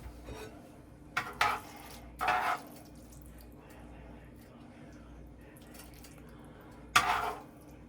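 A spoon clinks and scrapes against a plate while fettuccine Alfredo is served. There are a few short, separate clatters, quiet and close, over a low steady kitchen hum.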